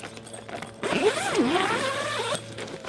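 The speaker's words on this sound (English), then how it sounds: "so let's zip open our doors and have a look inside" A zipper on a polytunnel greenhouse door being pulled open in one continuous rasping stroke lasting about a second and a half, close and clear, with no speech.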